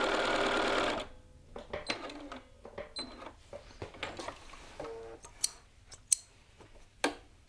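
A sewing machine runs a quarter-inch seam joining garment pieces at the shoulder and yoke: a brief steady whir of stitching, then scattered light clicks and taps as the fabric is handled.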